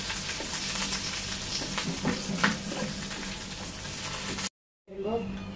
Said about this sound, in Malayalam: അതോടൊപ്പം തന്നെ നമ്മൾ കരിവേപ്പില ആവശ്യത്തിന് ചേർത്ത് കൊടുക്കാം. അത് നന്നായി ഫ്രൈ ആയി വരണം.